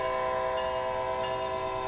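Horn of a Boston Sprinter locomotive in Train Sim World 2, one sustained loud chord-like honk that holds steady for the whole short moment, with no talking.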